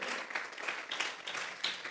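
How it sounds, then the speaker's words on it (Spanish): A church congregation claps in sustained, fairly faint applause, a dense patter of many hands with no talk. "Vamos a regalarle ofrenda de palmas al Dios de la gloria."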